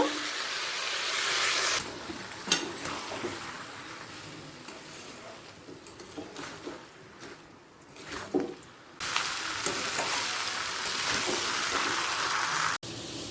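Rice, raisins and a katla fish head are fried and stirred in a pan for a Bengali muri ghonto. A loud, steady sizzle is broken by scraping stirs and clattering spoon knocks, then the sizzle rises again. No one speaks.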